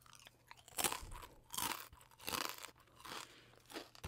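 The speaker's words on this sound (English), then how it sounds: "Watch, I'm gonna show you how they crunch." Kettle chips crunch loudly in a nearby mouth with a run of about six brittle bites and chews in an uneven rhythm, and no talking over them.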